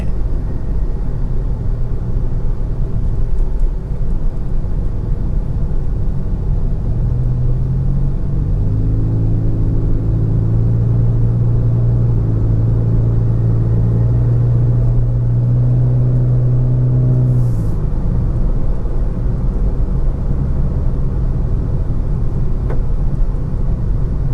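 A 2010 Toyota Vios 1.5E, lightly modified, pulls hard through a 0-100 run. Its engine note climbs steadily for several seconds over constant road and wind rumble, then drops away.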